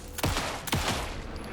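Two heavy gunshots in Alan Wake II, each a sharp, booming blast with a rumbling tail, fired about half a second apart at close range, with no voices over them.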